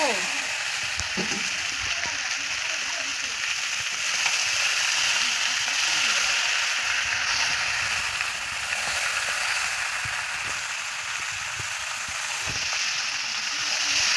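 Meat sizzles steadily in a pan with tomato, a continuous broadband frying hiss with occasional stirring scrapes, close and fairly loud, with faint voices underneath.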